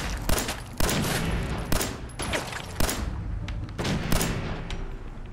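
Pipe pistol gunfire in the Fallout 4 video game: a series of loud, sharp shots spaced roughly a second apart, each followed by a short tail of noise, with no talking over them.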